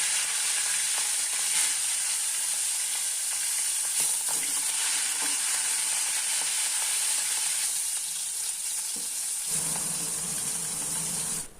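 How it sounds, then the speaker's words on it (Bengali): Rohu fish pieces sizzle and crackle steadily in hot mustard oil in a kadai, a continuous close frying hiss that shifts slightly near the end. "এবার মাছগুলো ভেজে নেব।"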